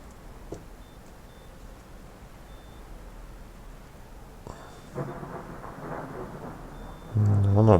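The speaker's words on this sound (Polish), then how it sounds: "No, nawet dźwięki burzy." Thunderstorm ambience in the Train Sim World 4 train simulator: a low steady rumble of rain and distant thunder, with a louder crack and rumbling roll near the end, over faint in-cab tones.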